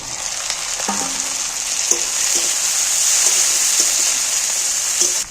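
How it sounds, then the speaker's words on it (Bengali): Green chillies and tomatoes fry in a pan with a bright, constant sizzle close up, and a few light taps of a utensil stand out against the steady crackle. "কাঁচা লঙ্কাটা অনেকটা ভাজা হয়ে গেছে এইবার টমেটোগুলো তুলে দিচ্ছি কাঁচা টমেটো"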